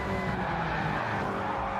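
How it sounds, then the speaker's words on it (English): A race car in a sim racing game at Spa-Francorchamps loses its rear end under power and spins, giving a steady, loud tire-skid screech over engine roar for under two seconds. "as he puts the power down, back end goes round"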